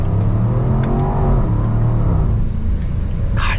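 A 2022 Range Rover Sport HSE Dynamic's deep, throaty engine revs and rumbles loudly nearby in dynamic, S and manual modes, its pitch rising and settling, with no talking.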